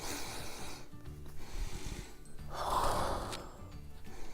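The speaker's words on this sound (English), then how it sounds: "please do not inhale like this" A sharp, quick sniff drawn in through the nose, the wrong way to smell essential oil, heard quietly and close with soft breathy noise around it and no talking.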